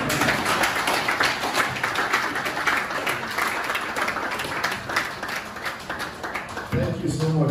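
A lecture audience at a roundtable event in Abuja breaks into steady, dense clapping that carries on for several seconds, with a voice speaking over the applause near the end.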